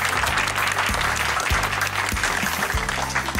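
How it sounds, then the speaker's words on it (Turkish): Applause from a small studio group in a comedy sketch, dense continuous clapping, close and loud, lasting the whole clip without talk. "Şimdi bir alkış gelebiliriz."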